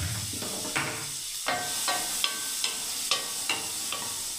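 Black chickpeas dropped into hot oil with whole cumin, raising a loud continuous hissing sizzle, with rhythmic scrapes of stirring in the pan about every half second.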